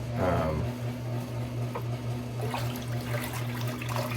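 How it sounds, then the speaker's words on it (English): Water splashing and running while rinsing the face during a wet shave, a soft intermittent trickle and splash over a steady low hum, with a few brief bursts of splashing. "let's rinse the face"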